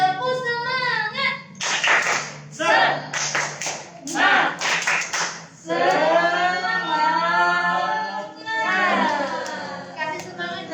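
A group of children perform the rhythmic 'tepuk semangat' spirit clap at an online church children's session, with patterned bursts of clapping mixed with chanted and sung voices, loud and close.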